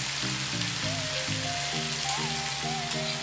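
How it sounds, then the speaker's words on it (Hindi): Lotus stem frying in a pan over a high flame, a steady close sizzle with faint stirring, under background music with no talking. "अब इसको तेज फ्लेम पर हम इसको ऐसे फ्राई करेंगे।"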